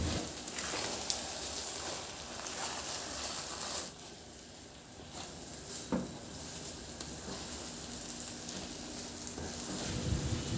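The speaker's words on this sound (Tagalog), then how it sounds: "Ihalo lang hanggang sa ma-coat na talaga ng OB condense yung ating malagkit" Glutinous rice being stirred with condensed milk in a pan, giving a continuous soft sticky sizzle with scraping strokes and a few louder knocks against the pan.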